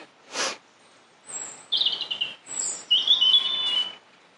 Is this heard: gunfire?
no